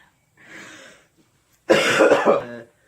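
A soft breathy exhale, a short pause, then one loud, rough, close-up cough with a throaty rasp, a lingering cough after pneumonia, bringing up mucus.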